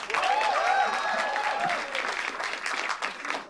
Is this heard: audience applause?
yes